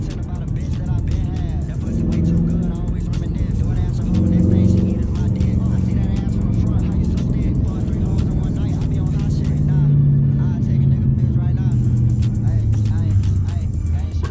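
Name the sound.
Dodge Challenger R/T driving on worn tires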